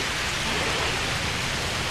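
Heavy rain in the video game Jurassic World Evolution pours off trees as a dense, steady, close hiss that runs unbroken throughout, with no voices.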